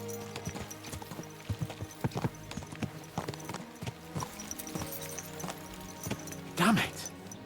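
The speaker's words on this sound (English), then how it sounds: "Let's really spur these horses on, eh?" Horses' hooves clip-clop steadily on the road in Kingdom Come Deliverance 2, a close, regular rhythm running through the whole stretch under game music and voices, with a short horse neigh near the end.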